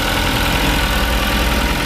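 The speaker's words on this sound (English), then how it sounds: "there's underneath the hood, that inline 4-cylinder. That's gonna sound very loud on camera." The inline four-cylinder engine of a 2018 Ford EcoSport Titanium idles under the open hood, a loud, close, steady hum with a fast, even low pulse and no voices.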